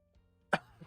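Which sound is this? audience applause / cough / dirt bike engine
cough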